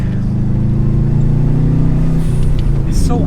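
A Subaru Impreza engine drones steadily at close range as the car is driven through bends, the pitch shifting slightly with throttle and a light clatter near the end.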